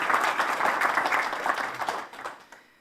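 A crowd at an outdoor park groundbreaking ceremony claps for the governor, a dense burst of applause that holds steady and then thins out and fades near the end.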